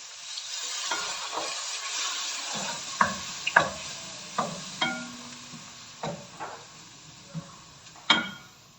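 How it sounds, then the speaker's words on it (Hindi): Water splashed into ground chilli, turmeric and dried coriander frying in a pan, giving a soft steady hiss with intermittent crackles and sharp sizzling pops through the middle and end. "थोड़ा सा पानी डाल के इसको हम भून लेंगे।"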